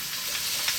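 Garlic hits hot olive oil with a brief, steady sizzle, close and moderately loud, with faint stirring ticks over the crackle and no talking.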